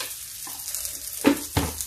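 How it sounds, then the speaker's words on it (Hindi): Onions fry quietly in a pan for a spinach curry, a soft low sizzle broken by two brief stir clatters near the end. "देखिए प्याज भी भून रहा मेरा।"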